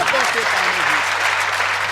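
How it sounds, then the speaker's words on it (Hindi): An audience applauding at a live Hindi poetry recital, with dense, steady clapping throughout and a voice briefly audible over it at the start. "तालियां बजती रहे"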